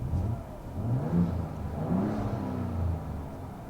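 A 2025 Ford Ranger Raptor engine in Baja mode with the exhaust valve open, revving in several quick swells, a deep rumbling exhaust rising and falling close by.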